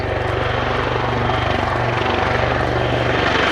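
Wildcat military helicopter flying at Yeovilton air show, with a loud continuous rotor thrum and turbine whine, steady and close throughout, with faint crowd or commentary beneath.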